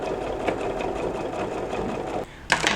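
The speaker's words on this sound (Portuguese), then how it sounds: "o feltro fica um pouquinho difícil da gente costurar na máquina" A sewing machine stitches felt for a puppy-shaped pencil case in a steady, close mechanical whir, pausing briefly before a short louder burst of stitching.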